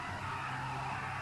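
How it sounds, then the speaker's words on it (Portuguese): Tire squeal from a G7 car mod in GTA V, a steady, loud screech of tires holding through the whole short moment over a low engine drone, with no talking. "Esse G7 ele é bolado, ele salta, ele sai cantando pneu"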